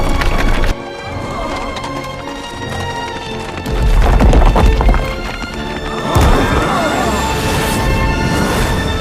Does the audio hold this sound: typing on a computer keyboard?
no